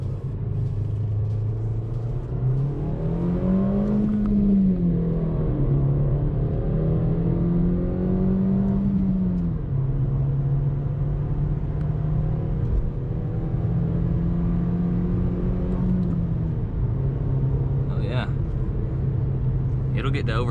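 A 2022 Nissan Versa S with a five-speed manual accelerates through the gears, its engine hum rising and falling with each shift. Road rumble persists underneath, and a voice speaks briefly over it.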